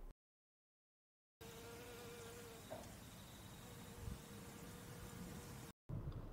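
Wasp buzzing as a steady, moderately close insect drone that runs without a break for several seconds, with a few faint rustles and no voices.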